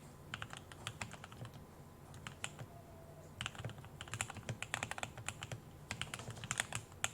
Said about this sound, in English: This keyboard sounds really clean, actually.